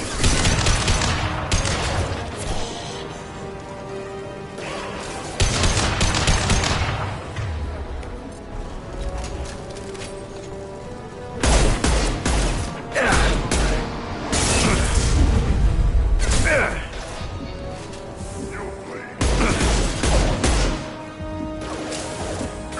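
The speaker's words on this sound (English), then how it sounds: "Taking heavy fire." Heavy gunfire in a video game battle: sustained bursts of automatic fire mixed with crashes and booming blasts, coming in loud waves separated by brief lulls, with no voices over it.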